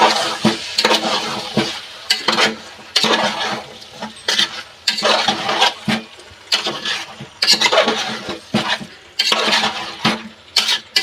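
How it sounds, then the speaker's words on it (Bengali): Chicken biryani being stirred after a spoon of rose water and kewra water goes in, with repeated scraping, stirring strokes against the pot in a steady rhythm over a soft sizzle, close and fairly loud. "গোলাপ জল দিচ্ছি আমি 1 চামচ, কেওড়া জল দিচ্ছি। ভালো করে আমি নাড়িয়ে নেব।"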